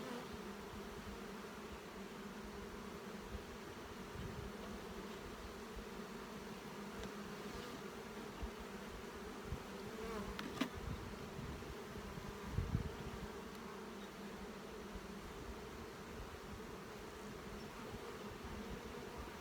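Honeybees from wintered nuc colonies hum in a steady, soft drone throughout while the hive frames are inspected, with a few faint knocks near the middle and no talk.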